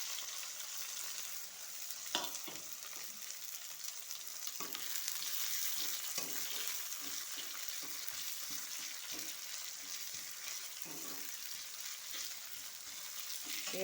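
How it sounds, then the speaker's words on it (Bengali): Chopped onions sizzle steadily in a pan on a home kitchen stove, a soft continuous fry broken by occasional stirring scrapes, with no talking. "পেঁয়াজটা ভাজা ভাজা করে নেব।"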